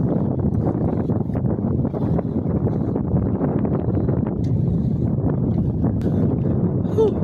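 Steady rushing wind buffeting the microphone, a continuous low roar with no talk over it.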